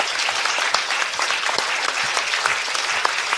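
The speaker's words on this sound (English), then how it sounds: "Shall we give them a round of applause?" A full audience applauds the translators at a talk, a dense steady wash of many hands clapping throughout with no break, fairly loud and close.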